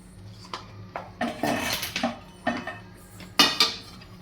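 A spoon stirring a sesame ladoo mixture of roasted sesame seeds, crushed peanuts and cardamom powder in a pan over low heat, giving a series of close metallic scrapes and clinks in an uneven rhythm.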